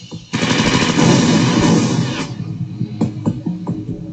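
A sound effect of sustained automatic gunfire plays as soldiers dodge enemy fire during Operation Urgent Fury. It is a loud, dense burst of machine-gun rattle lasting about two seconds, then trails into scattered fainter shots.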